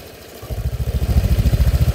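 A motorcycle engine idles close by, a steady low thumping pulse with a fast even beat and a slight mechanical clatter, running alone without voices.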